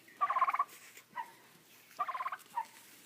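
Two rapid, warbling gobbles from a nearby turkey in a turkey pen, each followed by a shorter call, in an otherwise quiet setting.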